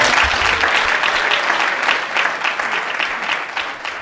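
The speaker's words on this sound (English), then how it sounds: "Let's give those young men a nice round of applause." Loud, steady audience applause at a leadership talk, thick continuous clapping throughout with no voices on top.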